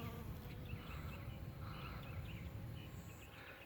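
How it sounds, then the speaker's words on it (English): Steady buzzing of bees close by among flowers in a South Florida garden, a continuous drone with faint chirps in the background. "the bees are loving this pollen"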